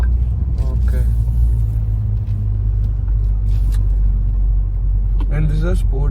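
A BMW Z4 G29 running in sport mode, its engine a steady close rumble with brief bursts and pops, heard under someone talking.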